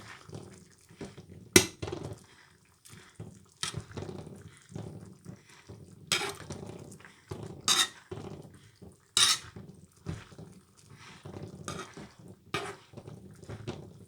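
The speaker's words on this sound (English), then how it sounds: "Let me see whether I can mash with one hand." Cooked food being mashed by hand in a pot after the cooker is switched off, with a series of soft wet squelches and occasional sharper clinks against the pot, quiet and irregular, recorded close without talk.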